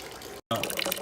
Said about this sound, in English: So we're just trying to get enough water in there through sparging to add up to 7 gallons.